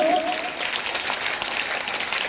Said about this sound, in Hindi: तालियां बजती होनी चाहिए, आवाज निकालते रहे आप लोग।